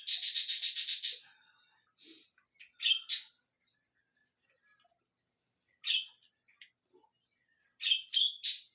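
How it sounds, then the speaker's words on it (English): A pet bird chirps indoors in a fast burst of sharp, high tweets, then scattered single chirps and short double calls with quiet gaps between. "That's my bird."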